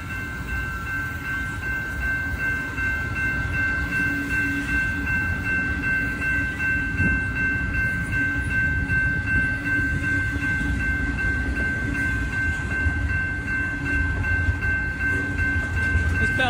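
A CSX freight train rolls past with a sustained, loud horn tone held throughout, over a continuous low rumble of rail cars close by.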